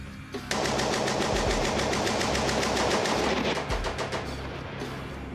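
A First World War machine gun on a range firing rifle ammunition in one long, loud, rapid burst of evenly spaced shots that stops abruptly, leaving a fading echo; no voices.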